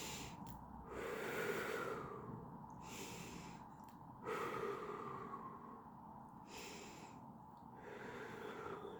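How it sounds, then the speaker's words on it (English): Slow, deep breaths during a calming meditation, each long inhale and exhale audible and close, repeating in a steady rhythm of about four cycles with quiet gaps between. "Take 5 deep centering breaths."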